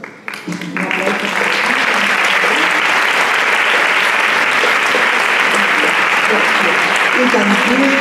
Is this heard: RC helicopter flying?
no